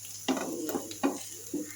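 Onions frying until browned in a pan, with a soft sizzle under a few clanking stirs of a utensil against the pan, close and moderately quiet.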